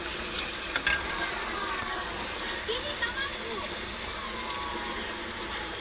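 Onion frying in a pan for a prawn malai curry, a constant close sizzle with soft stirring scrapes, a voice faintly present over it.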